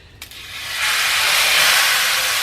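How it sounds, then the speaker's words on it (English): A sudden loud hiss erupts and holds steady as a beef roast sears hard in a hot pot, continuing without pause to the end. "I'm about to put the roast in the pot. You be gonna sizzle."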